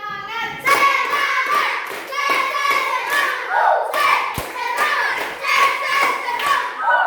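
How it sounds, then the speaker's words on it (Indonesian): Elementary classroom pupils doing Indonesian spirit claps, several rounds of rhythmic group clapping mixed with children's voices chanting along, close and lively. "Dua kali tepuk semangat. Tiga kali tepuk semangat."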